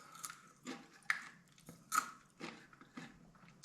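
Close, quiet crunching bites of spicy seasoned popcorn, a run of about seven uneven crisp crunches spaced roughly half a second apart, with no talking.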